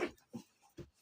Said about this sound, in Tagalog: meron dito aso na nangangagat